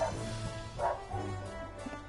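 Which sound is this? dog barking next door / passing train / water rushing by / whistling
dog barking next door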